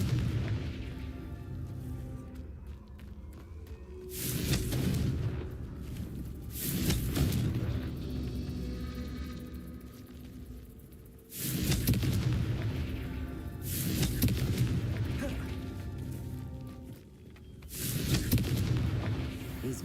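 Repeated heavy blasts from the Confringo spell in Hogwarts Legacy, several loud booming explosions spaced a few seconds apart over a rumbling game soundscape, with no talking.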